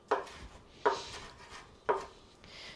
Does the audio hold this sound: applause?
no